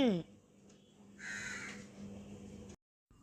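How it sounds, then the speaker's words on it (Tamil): A crow caws in a short clear burst, close and fairly loud, over a steady low hum, followed by a brief silence. "காகம்"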